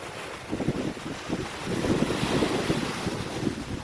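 Strong sea wind buffets the microphone at Jomtien Beach in Thailand, a steady loud rumble with surf washing underneath and no voices.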